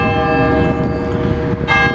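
Church bells ring loudly with a sustained, overlapping metallic tone, and a fresh strike cuts in near the end. No one speaks.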